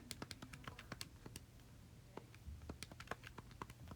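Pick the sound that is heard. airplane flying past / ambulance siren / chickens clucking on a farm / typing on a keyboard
typing on a keyboard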